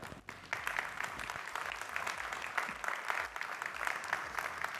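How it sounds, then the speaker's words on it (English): Conference audience applauding to welcome speakers onto the stage, a continuous full round of clapping from a large room, even and sustained with no voices over it. "Can I have a big round of applause for Richard Bistrong and Jonathan Taylor?"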